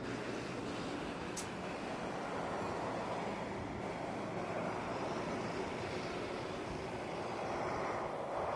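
An ATR turboprop departs Auckland Airport with a steady, broad, distant engine drone that holds at an even level, with no talking.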